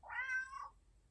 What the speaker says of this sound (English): Very loud meow.